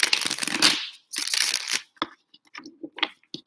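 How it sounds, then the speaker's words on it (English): A deck of tarot cards is shuffled by hand in two quick, loose riffling bursts close up, followed by scattered soft taps and slaps as the cards are squared and handled. "That's a very sloppy shuffle."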